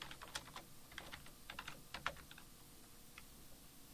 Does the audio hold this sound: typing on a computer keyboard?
yes